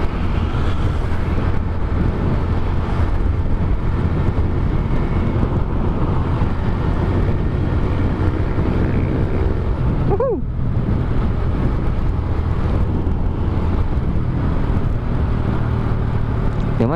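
Suzuki Smash 110 motorcycle riding along a road, a continuous loud engine drone mixed with rushing wind buffeting the microphone, with a brief rising whine partway through and no clear talking.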